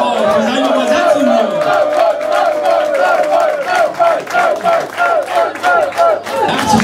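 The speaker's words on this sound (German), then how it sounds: "Maar een dikke applaus en een fettes dankeschön" A large crowd at an open-house stage event cheers and shouts loudly, voices chanting in rhythmic bursts that pulse together toward the end, with a voice heard over the noise.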